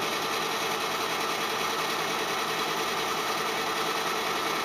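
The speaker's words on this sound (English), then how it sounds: "The blower just kicked on to throw the heat out." A heater's blower fan runs with a loud, steady whirring drone, its even mechanical hum unbroken and close by throughout.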